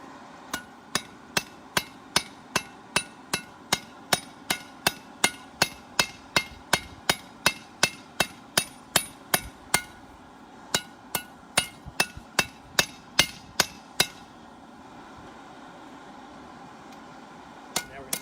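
A hammer strikes hot metal while making a caulking iron, in a steady, ringing rhythm, dozens of sharp close taps with a short pause, then a few more blows before falling quiet.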